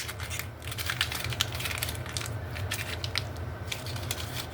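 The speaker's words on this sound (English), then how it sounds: "This is a postcard image, really cute, and we crumple it up." A paper postcard print is crumpled up by hand, giving a steady run of close, crisp crinkling and crackling that lasts several seconds with no talk over it.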